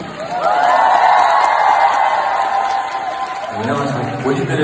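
A concert crowd in Seoul applauds and cheers for the live drummers at an Asia tour show, a loud, steady roar of clapping and shouting that holds for several seconds before easing slightly at the end.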